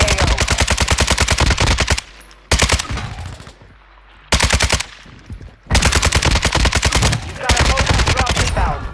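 Bursts of RPK machine gun fire in a first-person shooter, loud and close, with rapid rhythmic shots in long strings broken by short pauses and quieter stretches.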